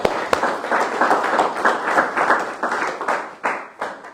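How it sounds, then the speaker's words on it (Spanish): A congregation at a church seminary study gives brief applause, a burst of many hands clapping close by in uneven, choppy waves that rise and fade over a few seconds. "Un aplauso, Señor."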